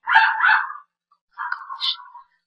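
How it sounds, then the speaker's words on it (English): A dog barks in the background of a chemistry lesson recording, two loud bursts of barking and yelping separated by a short pause, fairly close and with no talking over it. "Oh, and there's the dog."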